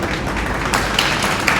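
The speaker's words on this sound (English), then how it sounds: "Give a round of applause, please." Audience applause at a student talk show for oral communication class, a short burst of steady clapping from a group, close and fairly loud, with no voices over it.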